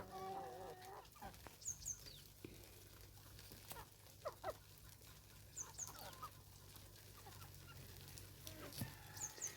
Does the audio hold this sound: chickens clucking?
yes